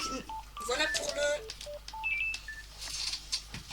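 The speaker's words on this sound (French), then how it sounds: "Désolé pour le téléphone qui sonne." A telephone rings during a live stream, giving a series of short electronic tones at shifting pitches, heard under a person speaking.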